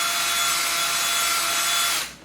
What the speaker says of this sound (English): Let's just try reaming this out a little bit.